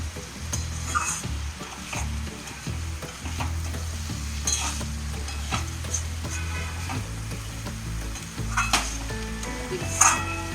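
Mutton liver ghugni being sautéed in a pan, with a continuous sizzle and frequent clinks and scrapes of a spoon stirring against the metal, close and steady, with no talk.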